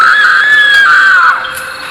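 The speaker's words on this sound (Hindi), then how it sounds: "जो उसने देखा उसे देखकर वो जोर से चीख पड़ी" A woman lets out a single loud, sustained scream that holds high and then slides downward in pitch, trailing off quieter near the end, as a horror-story scream.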